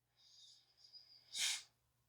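Breath drawn in through the nose during pranayama practice, a soft, airy hiss that builds into a short, sharp, loud sniff near the end, close and alone over a faint low hum.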